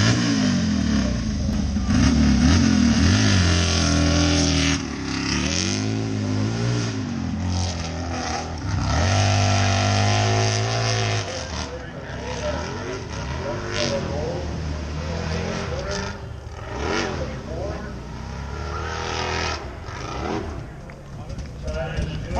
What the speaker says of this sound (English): school dirt bike with a V-twin